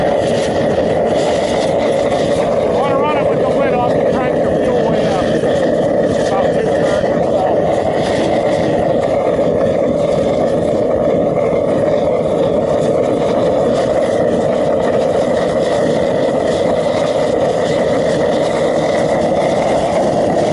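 A fuel-fired metal-melting foundry burner roars at full throttle, a loud, steady, close rumbling hiss that never lets up, with a voice speaking over it.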